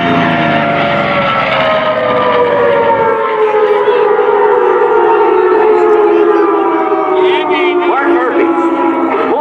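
An F4U Corsair World War II fighter flies at an airshow, a loud droning propeller engine whose pitch slides steadily downward as it pulls past, filling the whole stretch without talk.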